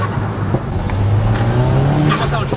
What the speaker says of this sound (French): On entend énormément le bruit de l'admission.